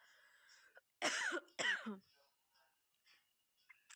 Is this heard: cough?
yes